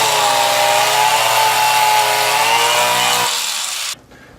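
A malfunctioning angle grinder runs loud and close with a steady, harsh mechanical whine and droning tones, easing slightly near the end before cutting off abruptly.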